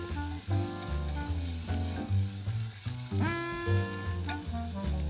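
Sage leaves frying with garlic in a pan, a loud continuous sizzle close by, with swells as the leaves are tossed and stirred, alongside tonal background music.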